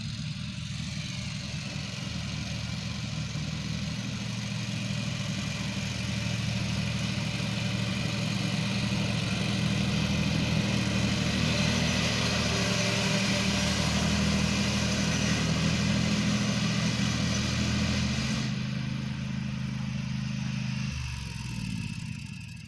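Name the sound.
lawn mower engine running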